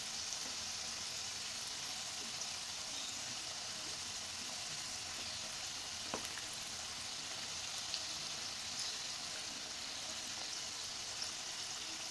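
Small samosas bubbling in deep oil make a continuous soft sizzle, even and moderately close, with occasional faint pops and no voices.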